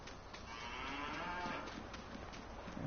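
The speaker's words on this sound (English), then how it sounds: "over here is cows, and that's a Brahma bull right there" A Brahma bull among cattle in the video game Farming Simulator 19 lets out a long, low moo that swells and fades, with no voices.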